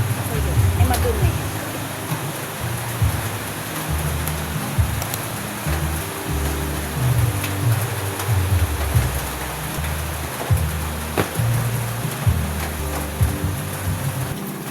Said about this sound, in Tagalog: Ulan din ngayon.